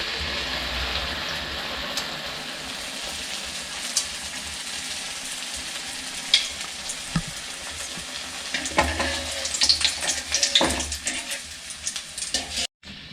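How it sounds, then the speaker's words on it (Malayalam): Onion vada fry in hot oil on a low flame, giving a steady, close sizzle throughout with a few stirring clinks and louder bubbling bursts toward the end. "ഇത് നമ്മൾ ലോ ഫ്ലെയിമിലിട്ട് നന്നായിട്ടൊന്ന് മൂപ്പിച്ചെടുക്കണം കേട്ടോ"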